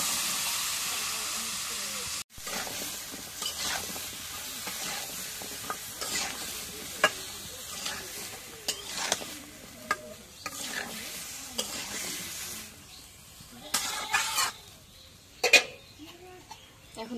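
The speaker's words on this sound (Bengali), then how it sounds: "এখন দেখে দিদি একটু কষাই নি।" Spices are sautéed with a fish curry of doulali fish, potato and radish in a pan, giving a steady sizzling hiss with repeated scraping stirs and occasional louder clatters.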